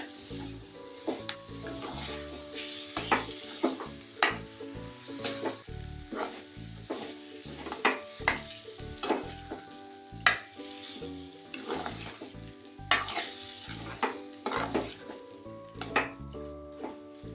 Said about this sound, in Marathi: कोलंबी घालून परतून घेते